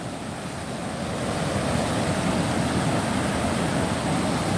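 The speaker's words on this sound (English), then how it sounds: "This is a weir." Water pouring over a weir on the Orange River, a steady dense rushing roar, close and loud, with no voices.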